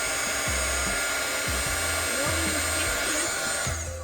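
A small electric fan or blower whirs steadily at close range to dry a watercolor painting of trees and mountains, a continuous airy hum with faint rhythmic tones underneath, easing off slightly at the end.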